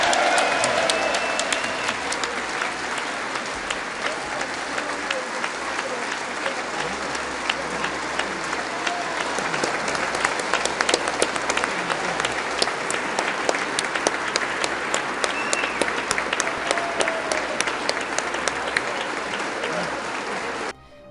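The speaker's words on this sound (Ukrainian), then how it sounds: "Конгрес США аплодував йому стоячи" Thunderous applause from a standing ovation in the US Congress for Zelensky, dense sustained clapping that fills the room for about twenty seconds before cutting off abruptly.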